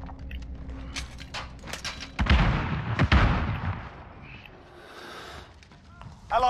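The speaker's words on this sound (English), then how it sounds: "Allied cruise missile away" A cruise missile strike in Call of Duty: Modern Warfare, heard as a loud, rumbling explosive blast with a sharp crack, followed by fading debris noise, with voices talking around it.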